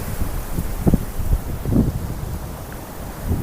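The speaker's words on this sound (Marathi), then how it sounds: "प्रचंड प्रमाणामध्ये वारा सुटला डागामध्ये गडगडाट सुरू झालेला आहे" Strong wind blows outdoors in a steady, roaring rush of low rumble, with a few heavier gusts surging near the start and middle and no voices.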